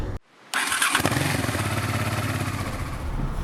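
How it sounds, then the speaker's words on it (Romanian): A motorcycle engine starts after a brief silence and settles into a steady, fairly loud idle with a close, rhythmic chug; no voices. "Facem trecerea asta scurtă a motorului."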